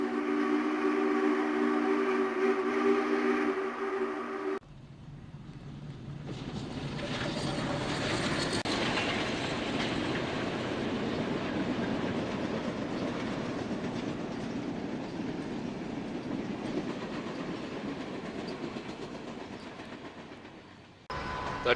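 SP&S 901 Challenger steam locomotive running fast on a test run, a loud sustained roar of the passing train with rail clatter filling most of the stretch before trailing off.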